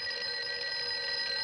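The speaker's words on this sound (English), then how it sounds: "I heard a bell ring. Does that mean something? Means somebody is calling." An old telephone bell rings steadily with a bright, sustained metallic trill at moderate volume, continuous from start to finish with no pauses and no voices.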